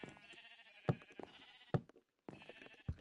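Sheep in the video game Minecraft bleat several times in quick succession, each a wavering nasal cry, fairly close and clear with only a short gap of silence between calls.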